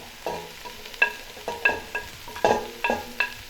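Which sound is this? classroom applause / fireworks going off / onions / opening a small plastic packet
onions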